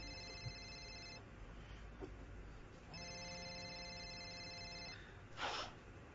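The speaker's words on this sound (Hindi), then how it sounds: "हाँ मेरा फोन बज रहा है।" A mobile phone ringtone plays in two repeated bursts of bright electronic tones, at moderate volume indoors, followed by a brief rustle.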